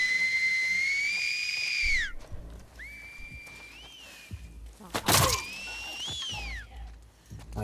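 Enemy whistles in The Last of Us Part II: several sharp, rising-and-falling two-tone signal whistles, fairly close, separated by brief thuds and scuffles of stealth gameplay, with no talk over them.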